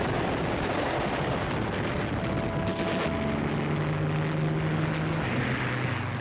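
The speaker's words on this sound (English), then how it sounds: "the British fighters show up in great squads, attacking the German bombers" Propeller-driven British WWII fighters in combat with German bombers: a dense, continuous engine drone with steady and shifting tones, loud and unbroken throughout, with no voices.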